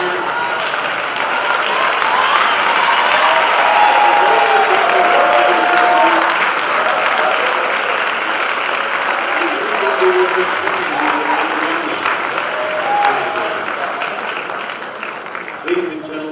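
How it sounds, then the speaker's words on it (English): A large crowd applauds seniors at a university athletics awards show, loud, dense clapping with cheers and shouting voices, sustained for about sixteen seconds and easing slightly near the end. "Can we get a round of applause for all of our seniors?"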